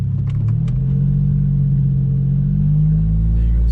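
A 2009 Mitsubishi Eclipse GT pulls away under low revs, a deep, close engine rumble that holds steady and then swells slightly as the car moves off, with no talking.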